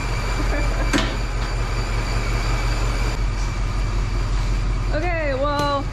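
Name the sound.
1965 Chevy C10 truck engine running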